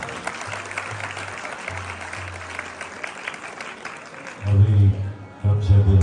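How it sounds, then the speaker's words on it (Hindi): Applause from an audience at a satsang during an annual bhandara at an ashram in Kurukshetra, a steady broadband clatter of many hands that continues throughout, with louder low musical tones swelling in near the end. "एक बार जोर से ताली।"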